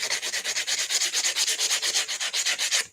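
Rapid, rhythmic back-and-forth sanding strokes, about seven per second, close and steady, ending abruptly.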